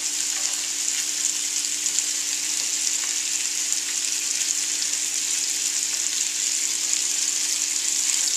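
Steak frying in a pan with butter, a steady, loud, close hiss and crackle of sizzling fat that runs unbroken throughout.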